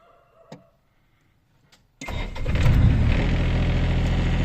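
A 2014 Hitachi Zaxis 20UR mini excavator's diesel engine cranks and catches after a quiet stretch with a few faint clicks, then settles into a loud, steady close idle.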